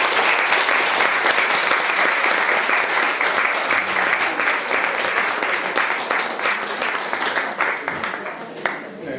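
Listeners at a presentation of a cookbook applaud: a loud, continuous wash of many hands clapping that tapers slightly toward the end.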